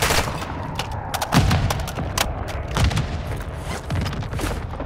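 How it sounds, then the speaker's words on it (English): Rapid rifle and machine-gun fire crackles nearby in Modern Warfare 2 DMZ, dense overlapping shots with heavier booms mixed in, loud and continuous. "Getting shot at."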